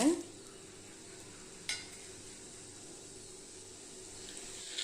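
Whole pepper, cumin and coriander seeds fry in hot oil for a traditional tomato gravy, giving a steady faint sizzle with a couple of sharp clinks of a spoon against the pan.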